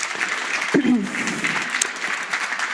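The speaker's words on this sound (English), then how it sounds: "Another round of applause for these guys." An audience at a neuroscience presentation event applauds the speakers with steady clapping. A voice briefly cuts through early on.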